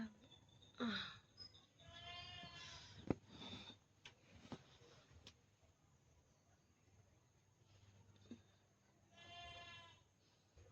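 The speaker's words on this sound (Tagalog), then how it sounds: "Maingay ng kambing." Goats bleat loudly twice, one long wavering cry early on and another near the end, with scattered clicks and knocks in between.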